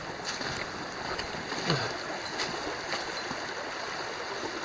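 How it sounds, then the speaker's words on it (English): Creek flowing at a hiking trail crossing on the Mid State Trail, a soft, steady wash of moving water with faint splashy ticks, fairly quiet and continuous, no voices. "We're crossing the creek."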